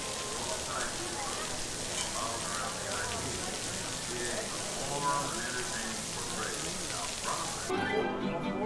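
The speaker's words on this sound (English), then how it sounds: "And just like that, it's raining." Steady rain falling at Magic Kingdom, a dense even hiss that fills the whole stretch, with voices and ride audio faintly mixed underneath before a short shift near the end.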